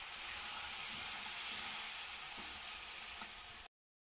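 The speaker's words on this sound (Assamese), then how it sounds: "বৰ্তমান ভাজি আছে মাংসখিনি" Chunks of meat frying in a pan give a steady, even sizzling hiss that runs without pause for several seconds and then cuts off abruptly.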